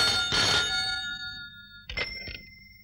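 An old-style telephone bell rings in a comedy scene, one long loud ring followed by two shorter rings, with no talk over it.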